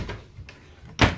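A cupboard door or drawer in the kitchen of a 2017 Keystone Montana High Country 378RD fifth-wheel RV is opened, with a soft knock early on and a sharper, louder clunk near the end, close by.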